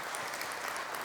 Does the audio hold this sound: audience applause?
yes